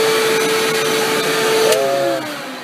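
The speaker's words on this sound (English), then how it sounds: "It was pretty quick vacuuming." A household vacuum cleaner runs upstairs with a steady, loud motor whine whose pitch rises and shifts near the end before the sound drops off.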